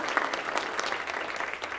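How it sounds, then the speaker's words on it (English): Brief clapping from an audience at a curriculum leaders' meeting, a short stretch of steady, moderately loud applause from a group. "let's clap our hands for Kansas City"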